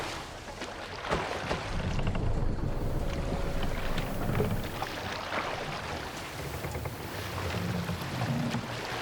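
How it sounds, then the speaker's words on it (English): Wind rushing past a sailing boat at sea in Assassin's Creed Valhalla, a steady, full blustery wash of air and water that carries on without a break and with no talk. "Good sailing wind here, Eivor."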